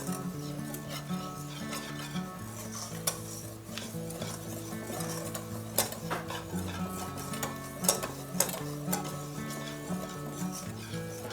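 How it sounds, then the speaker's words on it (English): A whisk stirs the dry ingredients for pumpkin bread in a bowl, a steady rapid scraping and clicking with sharper ticks now and then, with soft background music underneath. "I'm just going to whisk all of these dry ingredients together real quick"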